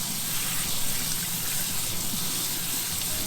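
Running tap water pours steadily over rice being rinsed, a loud continuous gushing wash with no pauses.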